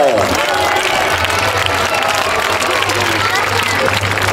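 Crowd cheering and clapping at a knights' festival in Laxenburg, a steady loud wash of applause and voices with a low hum underneath, lasting throughout.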